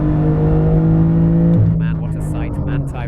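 A 700 hp Porsche 911 GT2 RS roars loudly on the Nordschleife, its engine holding a steady high drone before shifting and fading under the wind rush, with someone talking over it.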